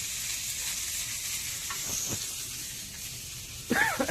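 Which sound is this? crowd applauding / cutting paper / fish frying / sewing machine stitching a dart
fish frying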